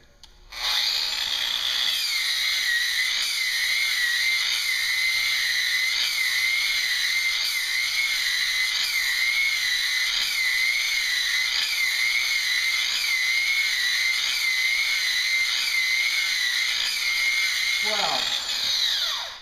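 A 200 grit dry polishing pad on a power polisher works natural stone in repeated passes, giving a loud, steady high-pitched whine with a gently wavering pitch that holds for many seconds and then winds down.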